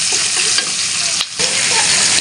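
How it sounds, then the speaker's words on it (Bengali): Desi chicken pieces frying and being stirred in a kadai, a loud dense sizzle running throughout with scraping stirs and a brief dip midway, no voices. "আগে আমি ভালো করে একটু কষায় নেব যাতে মাংস থেকে কাঁচা গন্ধটা চলে যায়।"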